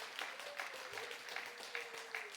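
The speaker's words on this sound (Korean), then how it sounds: "여러분 먼저 박수 한번 하겠습니다." A church audience gives a round of applause to welcome a visiting pastor, a steady wash of clapping at moderate distance, fairly faint, with a faint tonal hum running underneath.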